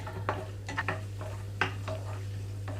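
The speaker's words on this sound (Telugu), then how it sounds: "ఇప్పుడు ఇవి కూడా వేగేటప్పుడు ఇందులోకి కిస్మిస్ కూడా వేసేసుకుంటున్నాను" Cashews, charoli nuts and raisins frying in a pan for bottle gourd halwa, with a spoon scraping and clinking against the pan in scattered bursts over a steady low hum.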